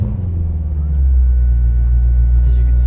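A Chevrolet Corvette C7 Stingray Z51 engine cranks and fires, settling into a loud, deep, steady idle rumble up close.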